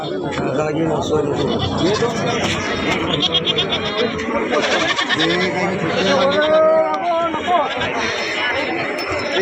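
Goats bleat repeatedly amid a busy crowd at a village goat market in Pathardi, India, with people chattering and talking close by throughout.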